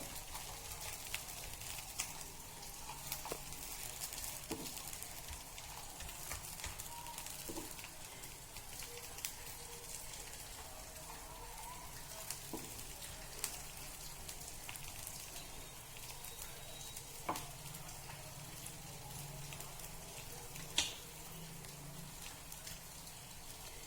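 Green moong snack roasting in a pan over a medium gas flame, a steady soft sizzle and crackle with occasional faint pops, continuous throughout and free of talk.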